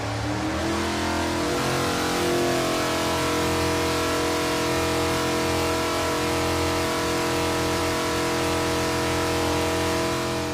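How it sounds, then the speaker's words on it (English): A race engine on a dyno held at wide open throttle around 180 RPM, a loud, steady, sustained roar with rich harmonics that stays constant throughout. "he's gonna give it a full 30 seconds at wide open throttle at 180 RPM"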